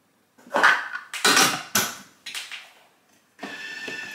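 Yeast and water being mixed into dough ingredients in a bowl, with a utensil scraping and clinking against the bowl in several close bursts separated by short pauses.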